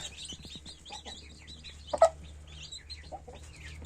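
A brooding hen hatching her second clutch clucks softly and close by, with faint chirps of other birds around and one sharper cluck standing out near the middle.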